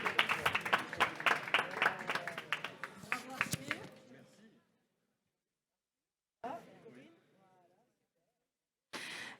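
Applause for someone at a plenary conference, a short burst of rhythmic clapping that fades out within a few seconds, followed by silence and then brief bits of speech.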